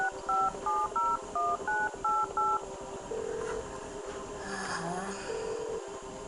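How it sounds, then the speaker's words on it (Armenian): Telephone keypad tones dial out a call on a quiz game show: about seven quick, evenly spaced beeps, followed by a steady hum and faint breathy noise. "լավ եկեք Անջելինա Ջոլին զանգենք"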